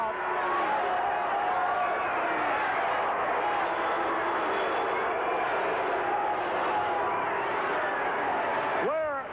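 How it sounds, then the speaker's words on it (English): A capacity crowd at a 1984 WWF wrestling event boos loudly, a dense, sustained roar of jeering voices filling the arena for several seconds while a commentator talks over it. "Listen to the boos by this capacity crowd"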